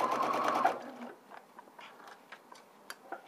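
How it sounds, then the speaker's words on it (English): A sewing machine stitches along a fabric edge for a hip pocket, with a dense steady whir for under a second before it stops, then faint scattered ticks and handling sounds nearby. "going to sew along this edge here"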